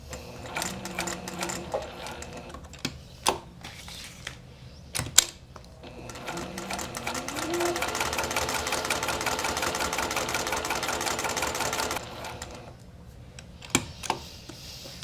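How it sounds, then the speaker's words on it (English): A sewing machine stitches across a faux leather strap, running in a steady rapid whir for several seconds, with scattered clicks and knocks of fabric handling before and after. "lower the presser foot, stitch across to the other side of the strap, and stitch it again"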